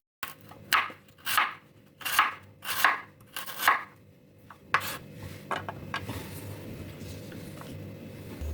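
A knife slices galangal root thinly for an Indonesian sayur lodeh: five firm, evenly spaced cuts on a board, then a run of quicker, softer slicing and scraping, close up with no voices.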